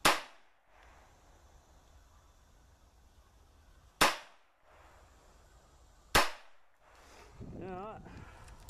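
Three sharp, loud gunshots ring out on a farm, spaced several seconds apart, each ending in a short decay. Someone speaks briefly after the last shot.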